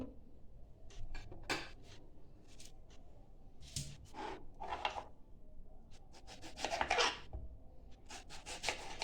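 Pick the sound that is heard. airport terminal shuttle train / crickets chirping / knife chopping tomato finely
knife chopping tomato finely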